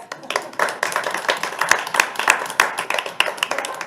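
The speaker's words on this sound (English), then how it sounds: "But we have to clap for her" Scattered, uneven hand clapping from a school board meeting audience for a board member, with individual sharp claps close by and some voices mixed in.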